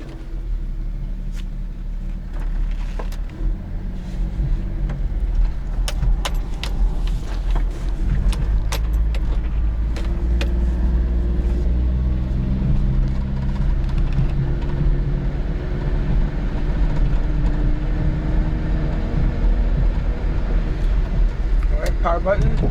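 A mini truck with an automatic transmission on a test drive, its engine droning steadily with a low rumble and faint rattles and clicks throughout, near and continuous.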